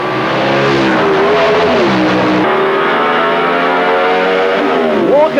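Graham Walker's super stock drag car thunders down the strip at Adelaide International Raceway, a loud sustained engine howl with rising pitch through the gear changes, steady from start to finish.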